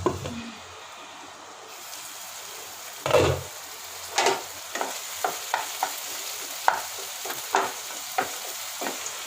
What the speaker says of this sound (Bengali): এবার এর মধ্যে টমেটো কুচিগুলো দিয়ে দেবো। এবার একটু ঢাকা দিয়ে রেখে দেবো যতক্ষণ না টমেটোটা নরম হচ্ছে।